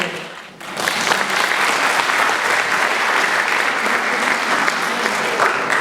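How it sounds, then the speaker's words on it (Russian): Concert hall audience applauding a college vocal ensemble at a choral music concert, clapping swelling in abruptly after a brief lull and holding as a loud, dense, steady roar. "Под ваши аплодисменты."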